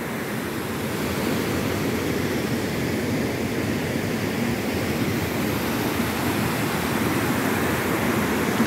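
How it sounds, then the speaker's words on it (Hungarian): A steady, loud broadband roar of a waterfall, Rogie Falls in Scotland, heard from a suspension bridge, rushes on without pause, close by and unbroken throughout. "Megérkeztünk a vízeséshez,"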